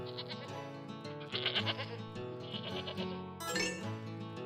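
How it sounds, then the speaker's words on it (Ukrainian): A goat bleats in long, wavering, nasal cries, several in a row, close and clear with no talking. "Це коза."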